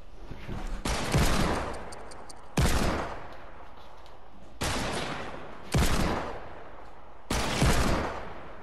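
Desert Eagle gunfire in Fortnite in a Nuketown gun-game match: five heavy, loud single shots spaced about a second apart, each with a sharp crack and a short ringing decay, with no talk over them.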